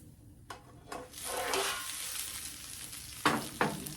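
Food frying in a pan outdoors in a garden, a hissing sizzle that rises and holds through the middle, with a few sharp stirring clacks near the start and end.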